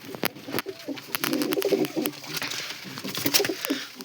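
Soft, low pigeon coos repeating close by, with light rustling and a few sharp clicks between calls.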